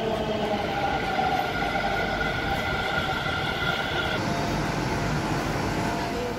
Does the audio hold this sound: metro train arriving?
yes